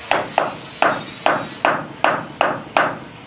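A hammer pounds wood during house building, eight sharp ringing strikes in a steady, slightly uneven rhythm, close and loud, with no voices.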